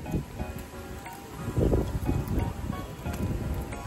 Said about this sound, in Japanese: 今日はなんだか風が強く吹いている。